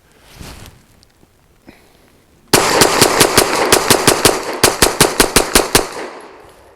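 A Saricam S-19 pistol fires rapidly into a dirt berm outdoors: after a few quiet seconds, a fast string of loud, sharp shots rings out close to the microphone and keeps going with no pause.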